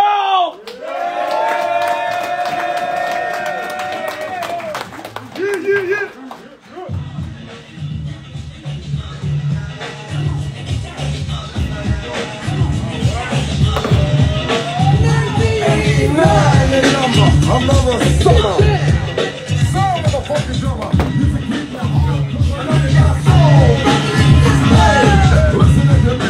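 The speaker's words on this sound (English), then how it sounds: "Give a big round of applause, please" Crowd applause and cheering at a barber battle competition, starting after a brief musical sting and swelling into loud continuous cheers, whoops and yells with clapping, building toward the end.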